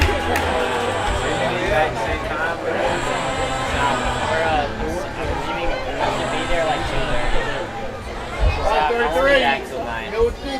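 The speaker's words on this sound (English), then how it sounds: "as you can hear from the ovation of the crowd" A small-town baseball crowd at a Suffolk Voyagers versus Edenton Steamers game chatters and cheers in a sustained murmur of applause for a favorite batter, with voices mixed in.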